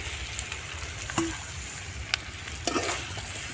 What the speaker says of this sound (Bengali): এঁচোড়টাকে দিয়ে আর কিছু একটুখানি কষিয়ে নেবো